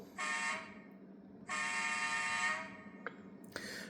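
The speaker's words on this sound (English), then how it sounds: "there's like 6 options for the train horn" Train horn in a train simulator video game, a sustained bright multi-tone blast sounding twice in long held bursts, then short toots near the end, loud and clear with no talk.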